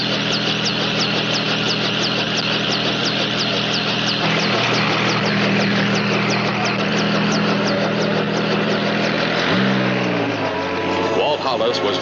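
Steady helicopter engine and rotor drone from the aircraft set to carry the injured back to a ranger station, loud and continuous throughout, with voices speaking over it and a shift in tone near the end.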